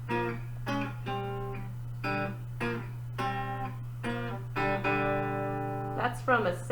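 Electric guitar riff in the style of a 70s rock song, a series of short repeated note phrases with pauses between them, played over a steady low hum.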